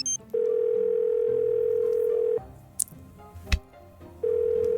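Telephone dial tone in the Nancy Drew: Warnings at Waverly Academy video game, a loud steady hum that runs about two seconds, cuts out for some clicks and a short knock, then returns at the end.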